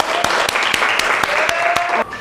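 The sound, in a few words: class applause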